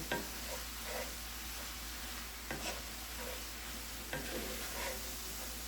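Taco meat seasoned with three packets of taco seasoning sizzles in a pan, a quiet, even frying hiss with a few light stirring scrapes and clicks.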